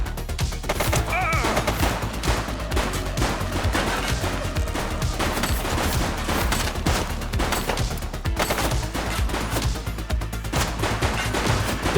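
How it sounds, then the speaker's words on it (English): Gunfire in the police video game The Precinct, a dense, continuous rattle of shots and bursts layered over loud background noise for the whole stretch. "Shots fired!"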